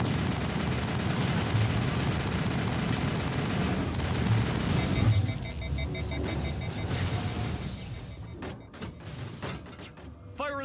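Enemy gunfire in the video game Mass Effect, a dense, continuous rattle of weapon fire over a battle din, fading to scattered sharp shots toward the end.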